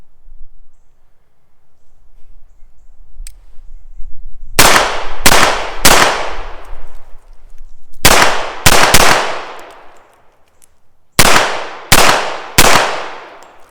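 Smith & Wesson 745 pistol fires three failure drills at 20 feet, two body shots and one head shot each: three groups of three sharp, loud reports with ringing decay, short pauses between groups.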